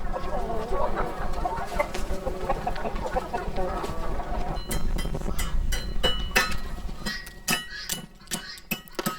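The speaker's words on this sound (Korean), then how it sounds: "수탉 주위에 암탉이 모여든다" Hens cluck steadily in a busy flock gathered around a rooster, overlapping calls filling the scene, joined later by sharp clinking taps, moderately close.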